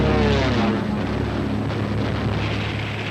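A Luftwaffe propeller aircraft flies overhead, a loud, continuous droning engine roar with a steady hum that fades slightly over a few seconds.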